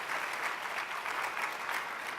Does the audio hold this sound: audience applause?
yes